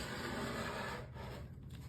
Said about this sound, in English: When you use a scraper, it gums it off pretty good.